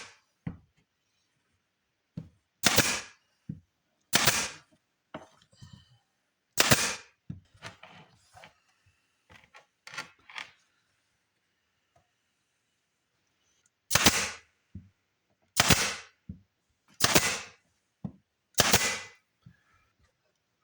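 Pin nailer firing pin nails into wood at an angle, sharp loud isolated pops in two bursts: a handful of irregular shots early, then four evenly spaced shots near the end, with quieter handling clatter between.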